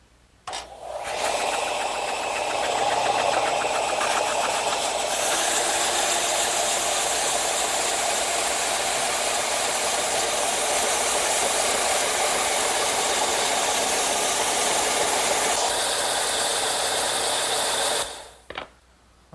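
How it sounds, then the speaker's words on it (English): A vertical belt sander tapers the edges of wood for a round table, a steady loud whirring grind that starts up, runs continuously for about seventeen seconds with shifting contact pressure, then winds down abruptly. "I'm going to use my vertical belt sander."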